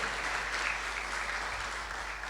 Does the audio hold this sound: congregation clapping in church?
yes